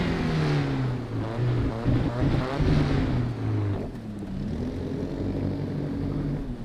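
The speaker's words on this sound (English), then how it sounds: "this revs a lot slower than the Mercedes" A racing car engine in Assetto Corsa Evo revs up and drops back in smooth, sweeping pitch changes, a steady motor drone underneath throughout, with no talking.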